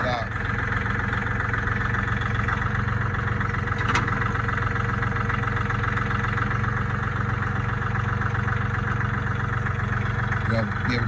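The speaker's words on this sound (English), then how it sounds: "The John Deere 3203 being added to our homestead." A John Deere 3203 compact tractor engine idles nearby with a steady, even diesel rumble and chug that holds constant throughout.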